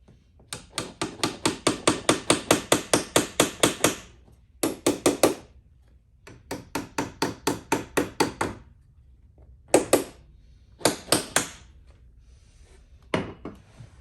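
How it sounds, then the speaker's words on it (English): Quick runs of sharp hammer taps on nails inside a 1947 Aireon jukebox, close and fairly quiet, coming in rhythmic bursts separated by short pauses. "maybe I can get a hammer in there just enough to tap one of them."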